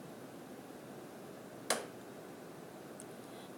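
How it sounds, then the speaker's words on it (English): A single crisp finger snap rings out once in a quiet room, brief and bright, followed by faint near-silence. "I can snap my fingers to the beat of the song."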